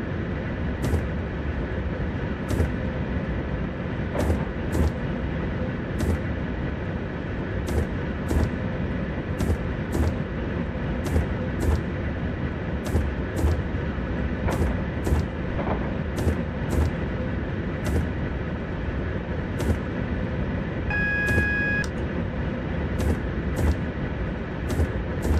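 A train in Train Simulator runs from Kings Cross to Stevenage with a steady, loud rumble and regular rhythmic clicks of wheels over rail joints throughout, plus a brief tonal chime near the end.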